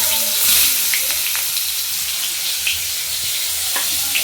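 Fish sizzles steadily in hot oil in a pan during home cooking, a continuous close frying hiss with a few faint clinks and stirring sounds.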